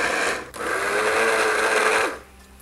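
A kitchen blender grinds stale, hard bread into crumbs, a loud steady whirring drone that runs for about two seconds before cutting off, with a brief dip near the start.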